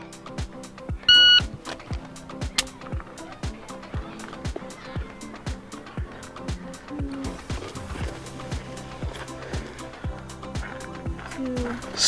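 A shot timer gives a single sharp electronic beep at a shooting drill, followed by a rapid string of loud gunshots in close succession while an instructor talks.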